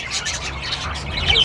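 Small caged pet birds sold in a restaurant that also roasts and sells chickens chirp and squawk continuously, a dense overlapping chatter of high calls close by with no talking.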